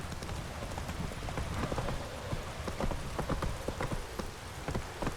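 Roach, the horse in The Witcher 3, trotting with steady rhythmic clip-clopping hooves close by over a constant rain-like ambient hiss, with no talking.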